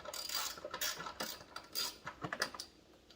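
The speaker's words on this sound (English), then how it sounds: "I'm using an 11mm socket to take these off" An 11mm socket working screws out of a John Deere S140 mower deck, with quiet, close ratcheting clicks in quick irregular bursts and no talking.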